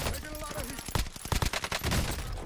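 Rapid bursts of gunfire from the Call of Duty game on Rebirth Island, dense volleys of close shots crowding the second half over game sounds and faint talk.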